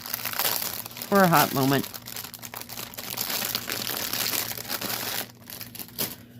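Plastic packaging of a stamped cross stitch kit crinkles close by in brief rustling bursts, heard beneath a person talking.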